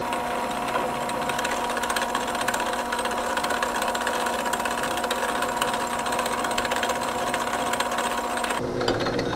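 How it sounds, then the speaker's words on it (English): A boring bar on a metal lathe running cutting passes to clean out chatter marks, a steady loud mechanical drone with a constant whine, continuous before it changes pitch near the end, no talk. "I've got a little chatter in my boring bar, so I'm just going to run a couple passes through"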